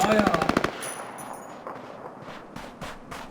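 Automatic gunfire in the video game Ring of Elysium: a rapid, loud burst of evenly spaced shots for the first moment, then quieter scattered game noise with a few faint thuds and sharp ticks.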